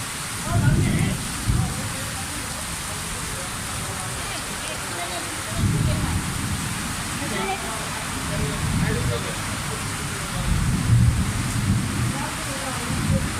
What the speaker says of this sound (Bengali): একটা শুটিংয়ে আসলাম, ঝড় বৃষ্টি একসাথে স্টার্ট হয়েছে